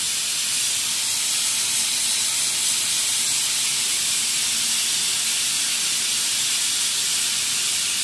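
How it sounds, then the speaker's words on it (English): Steam hisses continuously out of a 3CF substrate sterilizer, a loud, steady, high-pitched spray that holds unchanged from start to finish. "if this is done correctly, only steam's going to come out"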